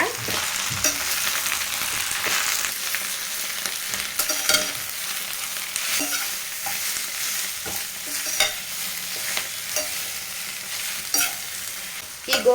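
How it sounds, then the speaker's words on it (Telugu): Gongura sorrel leaves fry in an oiled pan, a steady close sizzle broken by repeated scraping stir strokes at an uneven pace, with no talking. "తడేమీ లేకుండా తుడిచేసుకున్న గోంగురాకులను అయితే ఈ ప్యాన్లోకి వేస్తున్నా గోంగురాకులు మెత్తబడేంత వరకు వేయించుకుంటే సరిపోతుంది"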